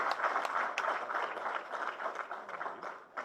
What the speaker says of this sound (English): as Ugandans, please clap